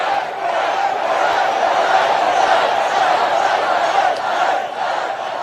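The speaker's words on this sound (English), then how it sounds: "Of course, you can listen to the crowd." Large rally crowd at a Trump event roaring and chanting in a steady, dense wall of noise, loud and sustained throughout with no break.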